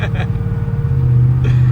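A supercharged Hemi truck launches and spins its tires, making a loud, close, low engine rumble that rises into a steady roar, with brief voices near the start and the end.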